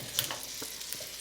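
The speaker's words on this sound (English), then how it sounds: "you can already hear it sizzle a little bit" Carrots sizzle softly in a hot pan for a citrus-bourbon braise, a faint continuous crackle with a few small pops and stirring sounds, no voices.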